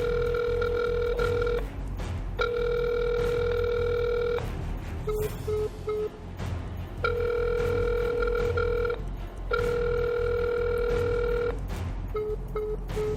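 A telephone rings in repeated long bursts of a steady electronic tone, separated by short gaps and brief chirps between rings, loud and close against a quiet background.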